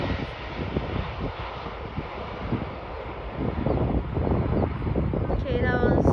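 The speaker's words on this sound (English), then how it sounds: "that was a firm landing, kinda" An airliner lands at Chicago O'Hare airport, heard as a steady jet engine roar with wind buffeting that swells louder toward the end, from a distance under an observer's occasional talk.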